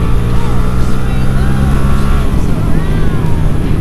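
Several motorcycles, a BMW R1200, a Yamaha MT-07 and a CBR250R, ride together on the road, with loud continuous engine drone and wind roar, close and steady throughout.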